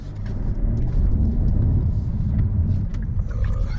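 Hyundai Elantra N engine and exhaust, warmed up and idling with a deep, steady rumble heard close and loud throughout, with no talking.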